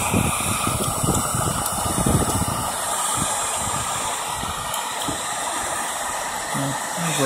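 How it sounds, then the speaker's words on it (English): A heat gun blows on faded car trim of a scrap-bound car, a steady close airy hiss and fan whir running throughout with faint handling noises, no talking. "here's me holding the heat gun"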